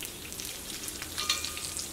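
Ayala mackerel fries crisp in hot oil, giving a steady close sizzle and crackle with small pops, and nobody speaks.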